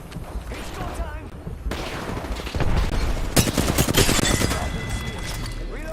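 Sustained bursts of automatic gunfire in an Apex Legends match, loud and close, with overlapping shots, booms and mechanical clicks, growing denser in the second half while game voices talk over it.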